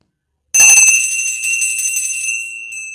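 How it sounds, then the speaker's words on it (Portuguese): A single bell in a castle tower strikes once with a sharp attack, then rings on with a steady metallic tone that fades slowly, loud and clear with no voices. "um sino lá na torre do castelo tocou"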